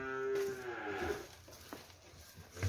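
A single cow at a cattle breeding farm lets out one long, loud moo up close that fades out, followed by quieter farmyard shuffling and a short knock.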